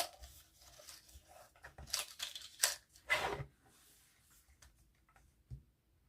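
Paper being trimmed from a junk journal cover, several close, crisp snipping and tearing cuts in an uneven rhythm, then a quiet pause and one last soft cut.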